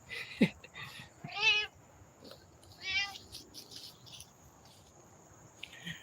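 A cat meows a few times at a distance, short calls spaced apart over a soft background of chirping insects.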